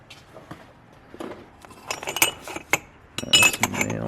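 Metal turbo flanges clink and rattle as a hand digs through a stash of parts in a shop, making a run of close, scattered chinks that grow busier toward the end.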